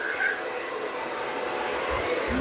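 Hair dryer blowing continuously during a salon-style blowout at home, a steady close-up whooshing hum with slight shifts in tone as the airflow moves across the hair.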